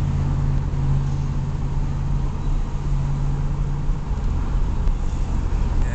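A 1982 Pontiac Trans Am cruising at about 45 mph on the Bobby Jones Expressway in Georgia, heard from inside as a steady low engine drone with broadband road and wind rumble, constant and unbroken throughout.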